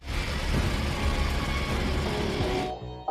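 A grinding machine in a film scene runs with a loud, steady mechanical roar and rumble for nearly three seconds, then cuts off abruptly into near silence.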